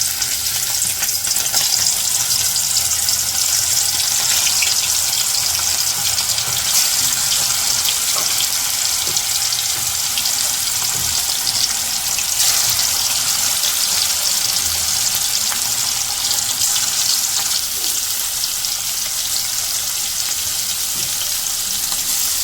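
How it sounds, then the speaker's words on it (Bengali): Spiced, marinated meat frying in oil in a home kitchen, giving a loud, dense, unbroken sizzle with faint stirring scrapes and no talk. "মাংসগুলো এখন ভালোভাবে করে একটু ভাইজা নিই।"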